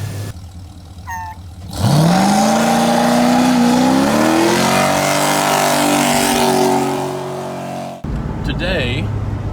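1969 Chevelle V8 fitted with turbo mufflers, starting with a sharp catch and settling into a loud steady idle with a deep rumble and rising harmonic tones, before cutting abruptly near the end.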